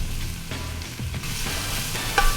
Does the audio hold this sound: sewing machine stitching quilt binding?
no